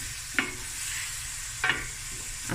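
Prawns quick-frying in a pan with Tabasco sauce, a steady close sizzle with two sharp stirring scrapes cutting through.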